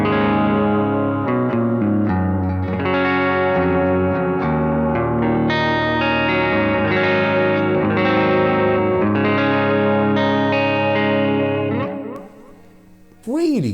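Electric guitar played through a Blackstar ID:X 100 digital amp with subtly modulated delay and chorus-like shimmer, sustained chords and ringing notes filling the space, loud and steady before a brief dip and a final swell at the end.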